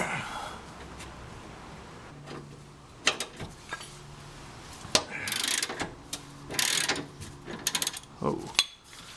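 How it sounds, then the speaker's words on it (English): A breaker bar with a 17 mm socket works loose the lower control arm bolts on a 1999 Mazda Miata's rear suspension. Close, irregular creaks, clunks and metallic ratcheting clicks come in bursts over a low background. "the next thing to do is to loosen up the lower control arm bolts"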